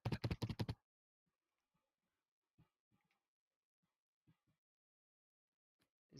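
Loud clacking bursts of fast keyboard typing come first, a quick rhythmic run of keystrokes close to the mic, followed by sparse faint taps and near silence.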